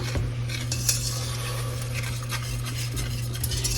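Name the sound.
stirring milk into a hot pie filling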